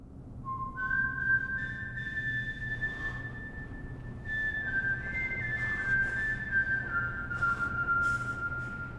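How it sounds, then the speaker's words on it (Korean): A lone whistled melody from a film soundtrack, clear sustained notes gliding between pitches, carried over a low steady hum of background noise. "순탄이 부는 휘파람은 이 영화의 OST."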